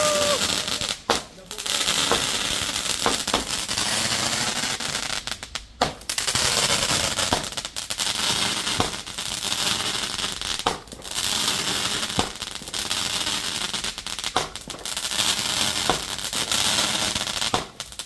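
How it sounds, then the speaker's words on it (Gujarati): Diwali firecrackers burst in a dense, continuous crackling barrage, loud and close, with sharp bangs and sputtering pops running throughout and occasional voices underneath. "તો થોડાક નાના મોટા ફટાકડા લાવ્યા છીએ તો અમે ફોડશું."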